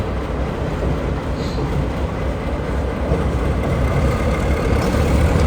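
Diesel box-cab locomotive with two driver's cabs, revving hard at a railway show in Bratislava, a loud, dense, sustained engine roar that grows a little stronger toward the end, with no talking.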